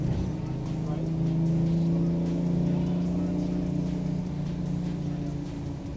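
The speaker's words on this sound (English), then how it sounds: "It's a TVR!" A TVR sports car passes on the Donington race track, a steady droning engine note heard from inside another car, with rumbling cabin noise and excited voices talking over it.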